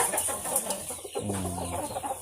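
Chickens, including fighting cocks, cluck in short, scattered bursts against a steady, hissy outdoor background on a rural smallholding, fairly faint and continuing throughout.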